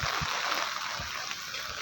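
A river swollen by Typhoon Kristine rushes past in a steady, faint broadband wash, with a few soft low splashes and no voices.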